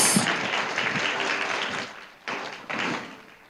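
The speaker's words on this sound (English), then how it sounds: "Once again, a big round of applause." Applause at the closing signing ceremony of an open parliament forum, a fairly faint wash of clapping that fades, then returns in two short renewed bursts.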